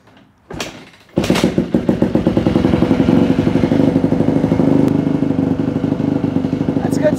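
A Yamaha YZ250F dirt bike, just refilled with oil after a clutch repair, is kicked a couple of times, then fires up and settles into a loud, close, steady rapid engine rattle.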